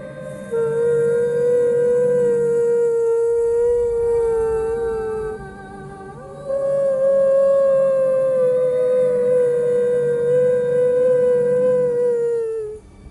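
A human voice imitates an aswang's eerie howl-like call, a sustained wavering tone held for several seconds, breaking briefly and then resuming, close and loud with no other sounds.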